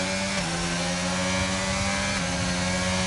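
Car engines in an online racing game drone loudly and continuously, with steady tonal whine and slight pitch shifts as the revs change. No pauses, no speech.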